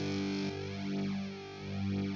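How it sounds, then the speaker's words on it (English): Synth guitar played through heavy distortion for an EDM cover, holding a thick, buzzing sustained tone that shifts timbre with a slow sweeping, phasing movement for about two seconds. "heavy distortion, and I messed around with the settings for a while, and I got this"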